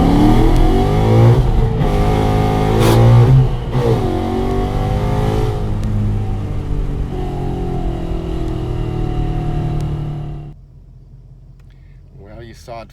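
A Ford Mustang Boss 302 V8 pulling in first gear, its loud engine note droning and rising close up for about ten seconds before cutting to near quiet.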